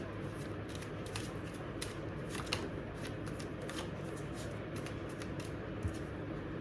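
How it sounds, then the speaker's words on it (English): A deck of tarot cards is riffled and shuffled by hand up close, a rapid crisp flutter of card edges repeating in quick bursts with no talking over it. "Let me just shuffle all the cards and then I'll show you each of them."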